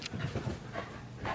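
A dog pants close by in a few quick, breathy bursts, short and rhythmic, with no voices over it.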